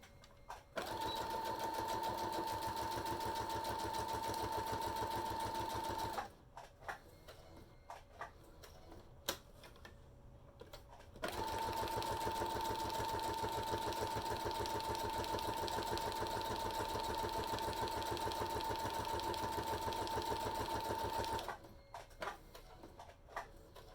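A sewing machine runs a straight stitch in two long steady bursts of fast, even mechanical whirring and ticking, close up, separated by a quiet pause with small handling clicks, then stopping again.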